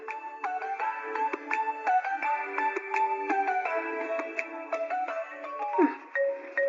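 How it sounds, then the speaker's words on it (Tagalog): A cellphone rings with a bright, rapid melodic ringtone that plays continuously and fairly loud, with no voices over it. "Cellphone samat ni Aljon ti agriring."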